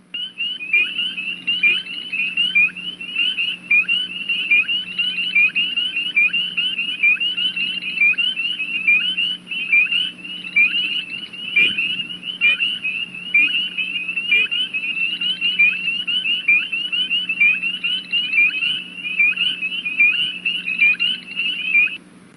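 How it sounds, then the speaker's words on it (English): A chorus of spring peeper frogs peeps steadily for the whole stretch, with shrill, rapid calls overlapping densely at moderate loudness and a faint low hum beneath. "it just can make a deafening chorus of these loud peeps"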